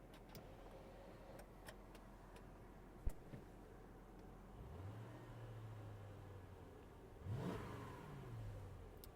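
A Mercedes GL550 V8 engine idles and then rises in two revs, the second stronger, with a sharp tick early on.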